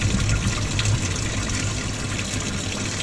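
Coolant drains from a disconnected hose on an LBZ Duramax engine in a continuous, fairly loud rushing splash that holds steady throughout with no talking.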